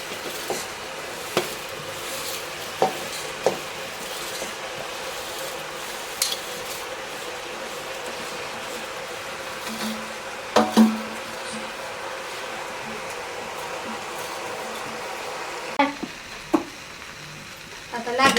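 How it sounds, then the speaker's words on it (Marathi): Steady sizzling as rice is stir-fried in a pan, with occasional clinks of a utensil against metal, no voices, fairly close. "तांदूळ थोडा वेळ परतायचा"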